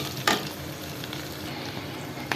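Shrimp fry with onions in a hot pan, giving off a steady, dense sizzle and crackle all the way through, with a sharp stir or scrape early on and another near the end.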